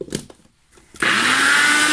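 A blender grinds oats into oat flour, kicking in abruptly after a few soft knocks and then roaring steadily at close range, loud and unbroken to the end.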